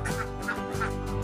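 Laying ducks on a duck farm quack in a dense, continuous chorus, with several loud nasal calls pulsing over the crowded flock noise close by.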